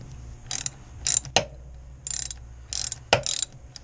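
A ratchet clicks while undoing a coolant bolt on a Honda VFR800 motorcycle, sounding as several short bursts of close metallic clicking with sharp knocks between them and quiet pauses.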